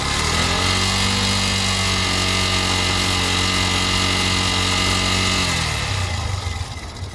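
A Yamaha FZ-S 2.0 motorcycle engine revs steadily near 5,000 rpm with a loud, even harmonic drone, then drops back toward idle in the final second.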